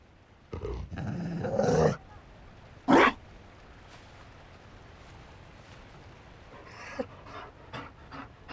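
A Mabari war dog in a fantasy role-playing video game pants and huffs in short breathy bursts, with a sharp bark-like yelp in between and quieter snorts later over a low game ambience.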